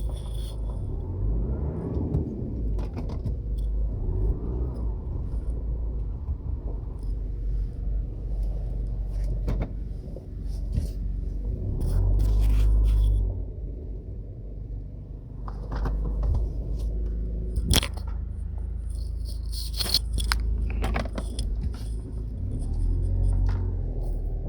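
A car drives along a highway under construction in Jamaica, a continuous low road rumble rising and falling, with occasional bumps, rattles and brief clicks over the rough surface.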